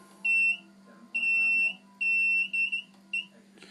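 A multimeter's continuity tester beeps while probing a refrigerator's defrost heater element, sounding as several short, shrill electronic tones of uneven length over a faint background hum.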